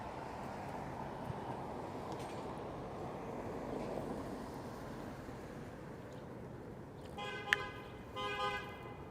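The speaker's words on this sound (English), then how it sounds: "Honk honk." Near the end, a couple of short horn honks sound over a steady rumble of traffic and outdoor ambience on a Toronto street.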